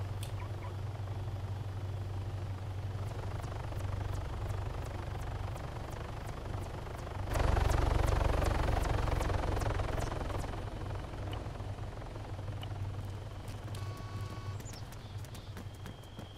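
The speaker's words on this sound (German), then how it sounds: "Kommt ja schon wieder eine Heli an." A helicopter's steady rotor drone and engine hum fill the space in the video game ARMA 3, swelling louder midway as it draws near, then settling back to a constant roar.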